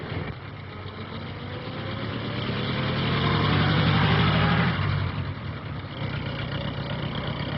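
A 1937-era car engine runs steadily close by, a continuous mid-pitched drone that swells as it revs a little, then settles back to an even running hum.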